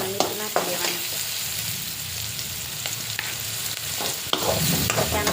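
Poha stirred in a pan, a steady close sizzle with repeated scraping and clattering strokes of the spatula, no talk.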